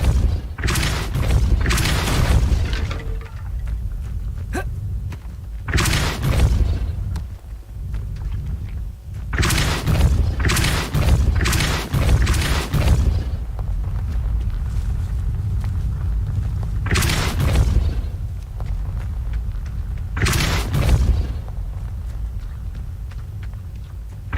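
Depulso spell blasts from the Hogwarts Legacy video game come as about six loud, broad booming bursts spaced a few seconds apart, each with a thudding low end, over a continuous background rumble.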